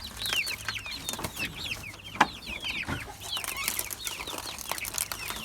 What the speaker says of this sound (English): Those are the meat birds. Those are broiler chicks.